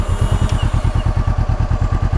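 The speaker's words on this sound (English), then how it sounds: "Yeah, it's got that twin cylinder sound, man." A 2016 Honda CBR 500R twin-cylinder motorcycle idling in neutral, a loud, close, steady low engine thrum with an even pulsing beat and a little mechanical clatter on top.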